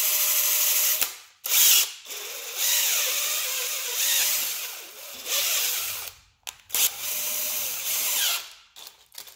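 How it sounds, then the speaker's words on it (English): A Wiha Speed E electric screwdriver spins a threaded rod in several steady motor bursts with short pauses between, close and fairly loud, with no talking. "You can see if you're using a driver,"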